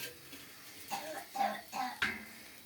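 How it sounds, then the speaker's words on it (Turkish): A child coughs a few times in short, separate bursts, sounding somewhat distant and muffled against a quiet room. "İçeride de çocuk öksürüyor."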